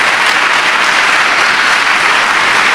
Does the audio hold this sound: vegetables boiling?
no